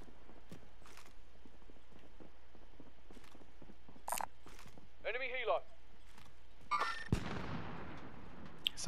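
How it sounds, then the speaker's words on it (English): Sniper fire in Call of Duty: Modern Warfare, with a few sharp, isolated shots spread among clicks, creaks and other game noise, and a final louder crack near the end. Player voices talk throughout. "Someone sniped at them."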